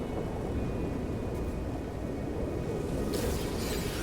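Thunderstorm rolling in over an ocean world in No Man's Sky: a steady, loud wash of rain and low rumbling fills the whole stretch, with a brighter hiss of heavier rain or thunder crackle surging near the end; no talking.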